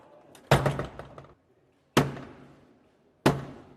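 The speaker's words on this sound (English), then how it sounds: "Close the door!" A heavy door swung shut three times during the State Opening of Parliament, each a loud, close wooden thud with a short ringing decay in a large hall, spaced roughly a second or more apart.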